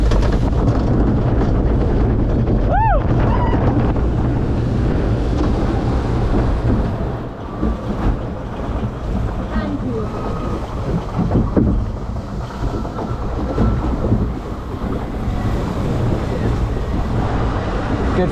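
A roller coaster ride at Plopsaland in Belgium, heard as a loud, steady roar of rushing wind buffeting the microphone throughout, with a brief rising whistle early on and shifting gusts as the train runs on.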